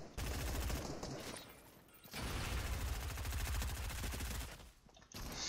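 Gunfire in Fortnite: two sustained bursts of rapid automatic shots, loud and dense, separated by a brief lull, with no talking.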